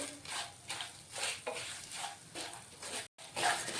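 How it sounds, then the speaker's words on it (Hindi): A spoon repeatedly stirs mustard seeds and spices in a pan over a low flame, with soft rhythmic scraping strokes and faint light sizzling, close and fairly quiet, with no talk. "इन सबको हम इस तरह से मिक्स करके अच्छी तरह से लो फ्लेम पर 3 से 4 मिनट के लिए भून लेंगे।"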